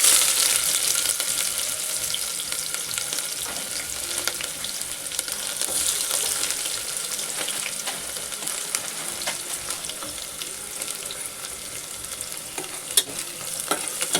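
Chopped onion sizzles in hot oil inside a pressure cooker, a continuous close frying crackle with occasional clicks and scrapes of stirring, no talking.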